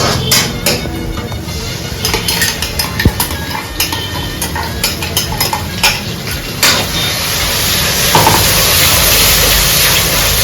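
Chicken coated in masala paste is roasted and stirred in a pan for a chicken saag, with a utensil scraping and clattering against metal in steady, busy strokes over a constant sizzle.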